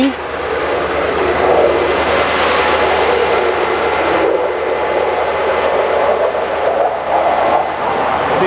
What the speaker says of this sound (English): We got some jets flying over.